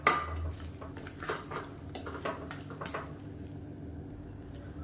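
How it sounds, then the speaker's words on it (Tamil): Coconut paste for kurma is stirred in a pan, with a scrape and clink of a spoon against metal at the start, then quieter intermittent scraping and soft sizzling up close, without speech. "தேங்காய் பேஸ்ட்டை சேர்த்து ஒரு 2 நிமிஷம் வதக்கி விட்டுக்கலாம்"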